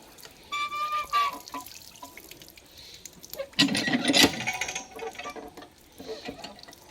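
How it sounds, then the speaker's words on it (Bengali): Water from a hand-pumped tubewell splashes over a stone slab being washed, in uneven gushes and trickles with a louder splashing burst midway, mostly close by and fairly quiet. "দেখো ছাদ, পাটা ধুয়ে নিচ্ছি টিউবওয়েল থেকে।"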